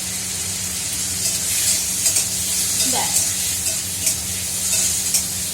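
Food frying and being stirred in a home kitchen pan, a steady bright sizzle with scraping spoon strokes throughout, close and loud with no talking.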